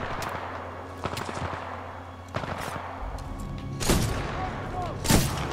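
Rapid gunfire in the Titanfall 2 video game, bursts of shots cracking through a busy battle mix with louder heavy blasts near the end and a voice speaking.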